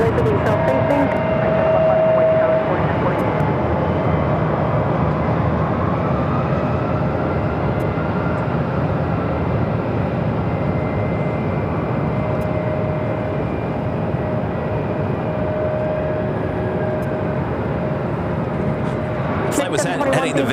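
An American Airlines Airbus A321neo takes off from runway 7 left at Phoenix, a steady, loud broadband engine roar that holds for the whole stretch with little change, while a voice talks over it at times.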